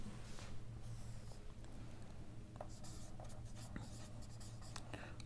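Chalk or marker scratches and taps on a board during a maths lesson on triangles in a classroom, faint and intermittent over a steady low background hum.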